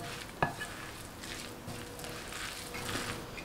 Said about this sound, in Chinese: 用筷子拌匀